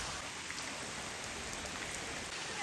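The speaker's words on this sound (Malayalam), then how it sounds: "മഴ ഇവിടെ ഇങ്ങനെ കുറച്ച് നേരമായി ഇങ്ങനെ ചാറി നിൽക്കുന്നുണ്ട്." Steady rain pouring down, a dense even hiss of drops on surfaces with no other sounds.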